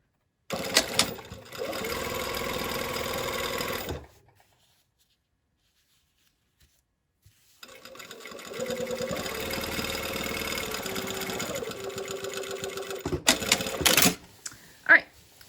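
A sewing machine stitching a seam at regular stitch length, two close bursts of rapid mechanical whirring separated by a few seconds of silence, ending with clicks and handling knocks.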